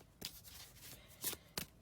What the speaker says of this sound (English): It's interesting how I always shuffle these cards thoroughly.